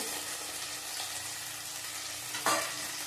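Cumin powder frying in a pan sizzles steadily up close, then a splash of water hits the hot pan and sets off a sudden, louder burst of hissing.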